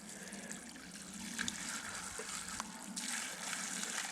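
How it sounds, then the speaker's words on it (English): A small flow of water trickling out of a spring-fed tank in the Quantock Hills, a faint steady outdoor splash and hiss that swells slightly toward the end. "Oh, there's a little bit of water coming out."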